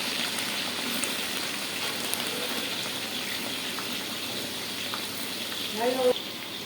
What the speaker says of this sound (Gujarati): મારા ફઈ વધાર કરે છે કોબી લઈ લો નાખી દો કાંદા